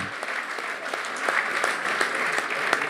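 An audience at a football club's 100th-anniversary talk applauds, a steady, even patter of many hands clapping throughout, moderately loud and unbroken.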